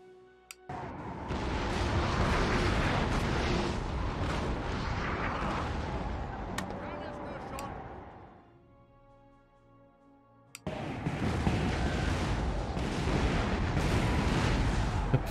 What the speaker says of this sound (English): Let's just have all the guns fire at the lancers.